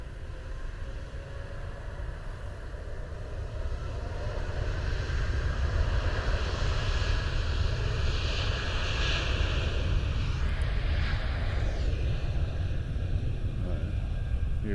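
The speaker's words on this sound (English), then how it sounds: "there's a Lufthansa A350 going out on the other side" A Lufthansa Airbus A350 departs from Munich airport, its jet roar swelling steadily from a distance into a broad, sustained rumble under wind noise, with no talking.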